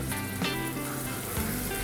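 Steady crackling sizzle of tomatoes sautéing in a hot pan for biryani, continuous and close, with faint scraping of stirring.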